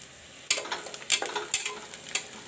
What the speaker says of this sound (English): Onions are turning golden brown.